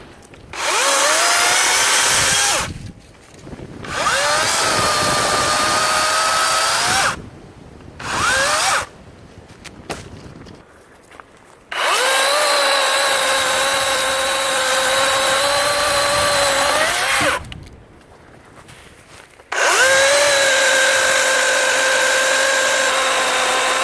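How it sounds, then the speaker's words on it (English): A DeWalt 16-inch battery-powered electric chainsaw revs up loudly in several long bursts, whining steadily while cutting, with short quiet pauses between runs. "That's why you carry an electric chainsaw with you."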